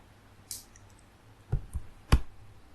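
A few sharp, quiet mouse clicks while selecting an item in a Power BI web dashboard, isolated taps spaced about half a second to a second apart over a faint room hum.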